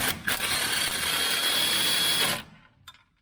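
A ratchet backs out a shock absorber nut on a C3 Corvette, a loud continuous mechanical whirring and clicking that runs for about two seconds, then stops abruptly and leaves only faint handling noises.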